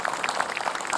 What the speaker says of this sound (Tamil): ஒரு பெரிய கைத்தட்டல் கொடுக்கலாமே குழந்தைக்கு.